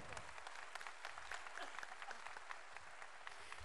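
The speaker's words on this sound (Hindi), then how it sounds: "तालियां कमजोर हैं आपकी दोस्त।" An audience at a Hindi recitation gives faint, thin applause: a soft, even patter of many hands that continues without a pause, heard from a distance and at low volume.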